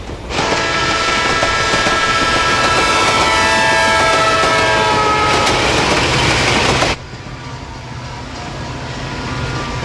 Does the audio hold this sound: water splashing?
no